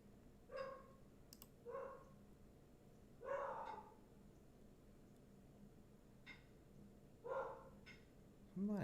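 Indoors, a dog gives faint, scattered barks at someone hammering outside. About five short barks are spaced a second or more apart over steady background noise, with a few clicks between them.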